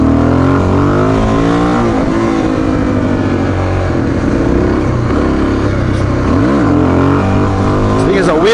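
Suzuki DRZ400S motorcycle engine revving hard through a wheelie, a loud, continuous close roar with rising and falling pitch sweeps as the throttle is worked, running steadily with no talk over it.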